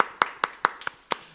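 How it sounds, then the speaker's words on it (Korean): Sparse clapping from a small congregation at a Wednesday church worship service, six sharp, distinct claps at a loose, uneven pace, near and fairly quiet, with no speech. "하나님께 영광의 박수 올려드리겠습니다"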